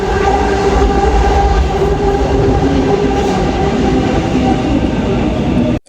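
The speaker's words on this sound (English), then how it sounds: "that's my train, arriving exactly as I reached the platform" Train rolling into a station platform, a loud steady rumble of wheels and carriages with a faint horn-like tone, continuous for several seconds before cutting off abruptly at the end.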